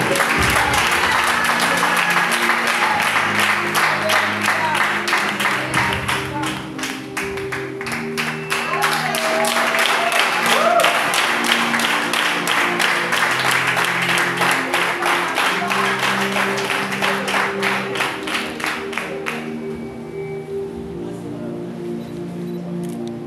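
A church congregation at an annual celebration applauds Jesus Christ with dense, continuous clapping that fills the room for about twenty seconds before thinning out, loud and sustained with no clear voices above it.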